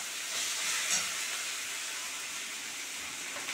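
Sliced onions fry in a pan for several minutes, giving a steady, soft sizzling hiss with faint crackles, close up and alone without speech.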